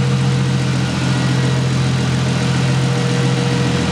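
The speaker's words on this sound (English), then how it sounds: "That's Marcus's G6E Turbo." A Ford G6E Turbo idles in a loud, steady low rumble with a constant hum and slight irregular burble, close up and alone without voices.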